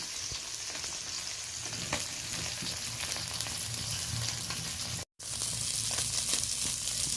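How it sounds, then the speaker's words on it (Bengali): Parse fish frying in oil in a home kitchen pan, a steady crackling sizzle that carries on throughout, with a very brief dropout near the end before the spitting resumes. "মাছগুলো বেশ লালচে করে ভেজে নিয়েছি"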